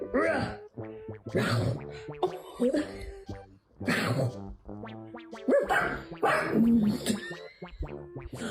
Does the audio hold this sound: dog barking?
yes